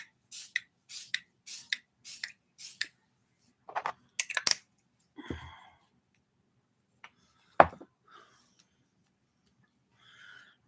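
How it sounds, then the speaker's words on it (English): A handheld spray bottle of Pineapple Glow face mist with hyaluronic acid, peptides and antioxidants gives a run of five or six quick, close hissing spritzes in a steady rhythm, followed by a few quieter rustles and taps. "I'm going to use this Pineapple Glow Mist with hyaluronic acid and peptides and antioxidants."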